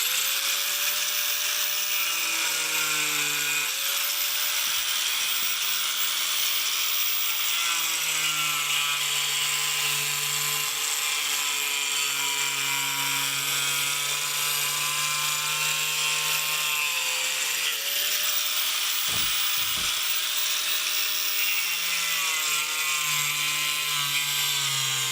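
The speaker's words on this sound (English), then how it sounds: "I'm going to use the angle grinder to cut along the line to get this" Angle grinder cutting through a 17-inch pipe section, a loud sustained high whine with shifting pitch as the disc bites, steady and close, with brief dips around the middle and near the end.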